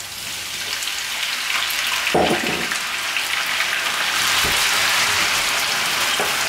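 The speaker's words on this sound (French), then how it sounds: "je laisse compoter mes oignons et frire mes pommes de terre" Potatoes and onions frying in a hot pan during a quick potato tortilla preparation, giving a steady close crackling sizzle throughout, with a couple of brief soft knocks from stirring.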